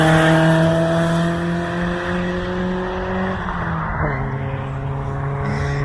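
A BMW E30 M3 races around the Goodwood circuit on a track day, its engine a loud, sustained drone that holds steady, then drops in pitch as the car lifts off and shifts before pulling hard again.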